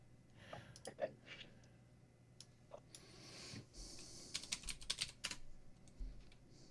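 Rapid typing on a mechanical keyboard with Cherry MX Blue switches, a steady clatter of crisp clicky keystrokes close by, with brief bursts and pauses in a quiet room.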